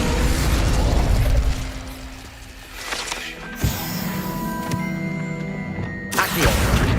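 A spell is cast in Hogwarts Legacy as Incendio fire magic, heard as a burst of whooshing crackle, then sharp clicks and mechanical ringing tones, with another flare near the end.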